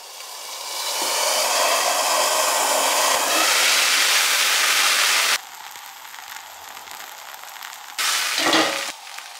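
Mushroom breakfast sausage patties sizzle loudly in a heated pan, a steady broadband fry for about five seconds, then a quieter crackle with a brief louder burst near the end.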